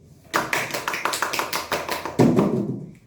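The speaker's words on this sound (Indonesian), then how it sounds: "ayo kita beri aplaus untuk Mitrawati" A fourth-grade class applauds a student for her answer, a short close burst of rhythmic, fairly loud clapping with no voices over it.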